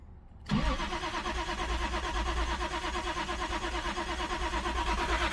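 A Toyota Supra engine left unused for 27 years cranks over, a sudden loud starter churn kicking in after a brief quiet moment and droning on in a rapid rhythmic whir without catching.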